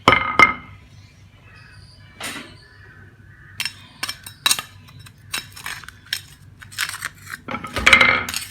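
A spoon stirring green chilli and tamarind chutney in a pan, with scattered clinks and scrapes against metal, some sharp and close, spread irregularly across several seconds.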